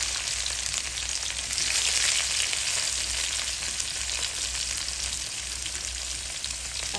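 Panch phoron spices and chopped onion frying in hot oil, giving a steady, dense sizzle that continues without a break, close up and with no talking.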